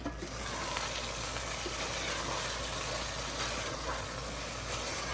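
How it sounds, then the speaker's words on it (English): A soya pulao mixture with salt and spices frying in oil gives off a dense, even sizzle that stays steady and close throughout, with no voices. "we're going to saute this till we see some oil separating on the sides"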